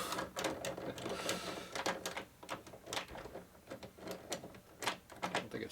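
An old early-1900s door lock has its threaded metal part turned loose, giving a busy run of close, gritty scraping and clicking bursts that keep coming in uneven pulses.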